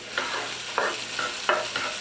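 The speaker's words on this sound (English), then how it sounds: "Just move the oil around like that, and then just put in your onion." Chopped onion sizzles in hot oil in a pan, a soft steady frying hiss broken by a few short scraping stirs, close and alone with no talk.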